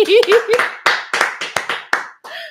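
A few people clap, eight or so sharp distinct claps in an uneven rhythm, close and fairly loud, with a voice laughing and talking over the start and end during a Brazilian psychology talk.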